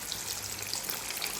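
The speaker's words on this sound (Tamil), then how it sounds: "எல்லாத்தையும் ஃப்ரை பண்ணிக்கிடுவோம்." Potato strips frying in hot oil for homemade French fries, a dense, even bubbling sizzle that holds steady at close range.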